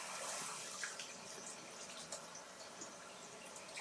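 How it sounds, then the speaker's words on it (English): Quinoa rinsed under a running tap, a faint, steady trickle and splash of water with small drips, ending with a brief louder clink. "So I'm just doing a quick rinse."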